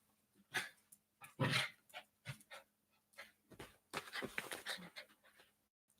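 A dog pants and snorts up close in short, uneven bursts of huffing breaths and snuffles, with brief quiet gaps between them.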